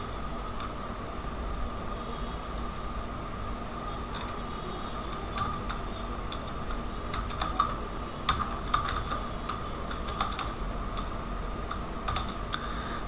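Typing on a computer keyboard during an Illustrator lesson, light irregular key clicks in bursts over a steady low hum, fairly close and quiet, with no talking.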